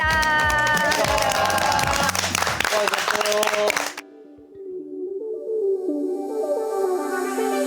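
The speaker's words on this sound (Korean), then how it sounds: "박수!" Audience clapping and cheering at a Jeonju citizens' award ceremony, a dense, loud wave of applause that drops off suddenly and gives way to a quieter musical fanfare.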